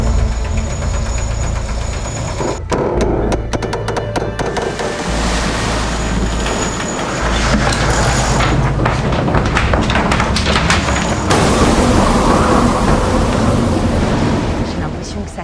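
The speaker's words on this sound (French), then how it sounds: "Je te vois wincher, là on entend quand même un bruit qui est saisissant" A winch being ground aboard a foiling sailboat, giving a loud, continuous mechanical churning and rattling over steady rushing wind and water, rising in intensity partway through.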